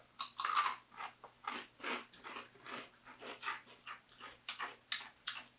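Rolled tortilla chips are crunched repeatedly in close-up, a steady run of loud, crisp bites and chews at a quick, regular rhythm, with no talking.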